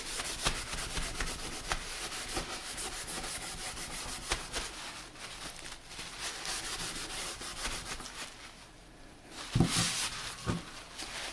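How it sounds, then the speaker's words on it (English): Paper towels rub and wipe excess wood stain off a wooden craft piece, a steady close scuffing rubble with a sharper swipe near the end; no one speaks. "we're going to try to use as much of our paper towels and get as much of that excess off as we can"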